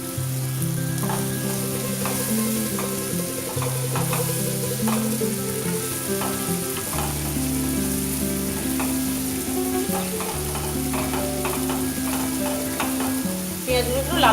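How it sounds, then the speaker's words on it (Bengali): Onions salted and lightly sugared fry in a pan for prawn curry, a steady close sizzle with faint stirring scrapes and clinks running continuously, with steady low hum underneath and no talking. "পেঁয়াজগুলো একটু লাল করে ভাজবো।"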